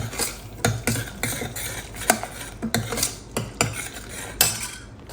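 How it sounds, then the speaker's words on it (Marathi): Masala being stirred and sautéed in a pan, with loud, rhythmic metal spoon scrapes and clanks against the pan over a light sizzle, close up and without talk. "हा मसाला छान परतून घेऊ आपण"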